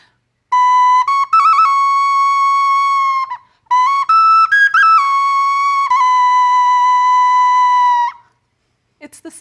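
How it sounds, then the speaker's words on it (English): A matchbox-sized tiny ocarina plays loud, pure, piercing notes in two long phrases with quick trills and steps between pitches, close by, followed by a brief pause. "This is a little tiny ocarina, small but mighty. Listen to how loud this little thing is."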